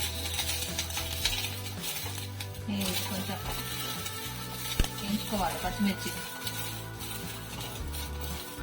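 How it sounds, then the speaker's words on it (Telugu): Green chilies fry in a little oil in a pan while preparing a chutney, a soft, faint sizzle with occasional clinks and scrapes of a utensil against the pan, and a voice talking throughout. "పచ్చిమిర్చి వేసుకొని కొద్దిగా ఆయిల్ వేసుకొని"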